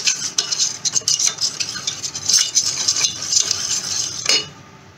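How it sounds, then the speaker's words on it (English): Fish pieces are mixed by hand with yogurt sauce, salt and spices in a bowl for a Bengali fish curry, giving close, irregular wet squishing and clinking sounds that stop near the end. "Now mix it well."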